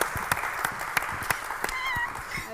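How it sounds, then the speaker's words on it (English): A small group claps for Esmeralda at an informal after-hours gathering of a Hunchback musical cast, with sharp distinct hand claps at an uneven, loose rhythm over a bed of lighter clapping, close and fairly loud, with a voice rising briefly near the end. "Round of applause for Esmeralda"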